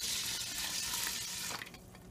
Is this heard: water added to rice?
yes